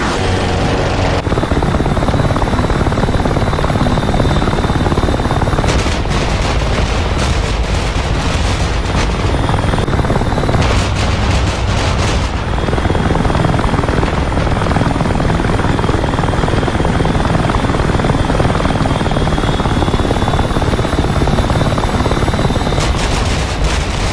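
Helicopters in the DCS World flight simulator game, a loud, constant rotor drone filling the whole stretch, with bursts of gunfire and booms breaking in at several points.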